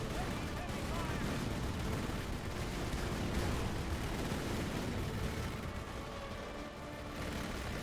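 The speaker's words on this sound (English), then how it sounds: "Oh, mortar barrage." A mortar barrage in the strategy game Rise of the Reds makes dense, continuous rumbling booms and crackling blasts that blend into a loud, unbroken wall of explosions.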